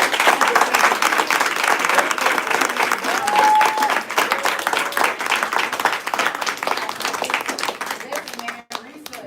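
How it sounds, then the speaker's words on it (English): An audience at a live talk-tour event breaks into loud, sustained applause, a dense wash of clapping hands that carries on steadily for the whole stretch before fading slightly near the end. "So give a round of applause for our sisters."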